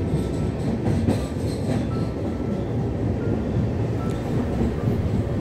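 A passenger train crosses the Farakka barrage at night with a loud, continuous rumble and rattle of wheels on track and faint rhythmic clicking throughout.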